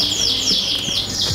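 A canary chirps close by in short, repeated high tweets over a steady background hum.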